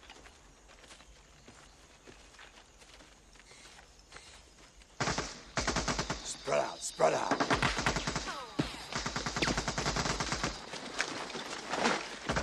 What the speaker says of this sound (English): AK-47. It has a distinctive sound.